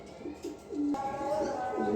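Racing pigeons coo close by, a few soft, low, repeated calls over a faint background hum.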